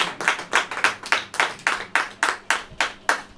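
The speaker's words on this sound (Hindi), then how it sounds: "ताली बजाइए आप।" Church congregation clapping in a steady, even rhythm, about three claps per second, loud and close with nothing else heard.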